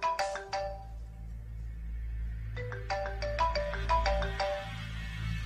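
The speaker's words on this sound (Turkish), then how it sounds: "Telefonu açmam lazım." A telephone ringtone plays, two bursts of bright electronic melodic notes with a pause between, clear and fairly close over a low steady background hum.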